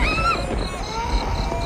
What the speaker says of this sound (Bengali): শিয়াল ডাকছে, বাতাসও দিচ্ছে